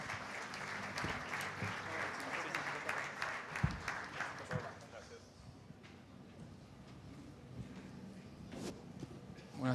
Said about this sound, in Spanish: Los recibimos con un aplauso y los escuchamos